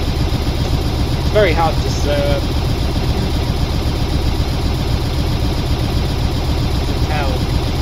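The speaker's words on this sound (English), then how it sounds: "is this engine really loud?" A vehicle engine in the video game Stormworks: Build And Rescue drones steadily at idle throughout, a constant low hum beneath someone talking.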